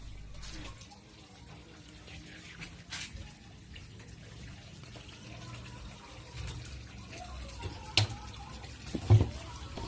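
Water runs steadily into a koi pond under renovation in Chiang Mai as a quiet continuous flow, with a few soft knocks and clunks near the end.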